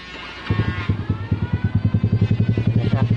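A motorcycle engine, a Rusi Neptune 125 with an aftermarket SC Project silencer, idles with a steady, pulsing exhaust burble that starts abruptly after a short pause and continues loud and close throughout.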